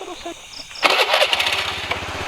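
A motorcycle engine starts up on a night ride through rubber plantations, faint quiet ambience giving way to a sudden loud catch, then a steady rumbling idle that continues to the end.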